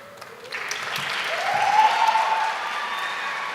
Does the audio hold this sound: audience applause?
yes